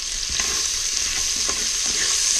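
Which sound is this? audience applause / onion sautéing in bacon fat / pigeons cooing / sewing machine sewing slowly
onion sautéing in bacon fat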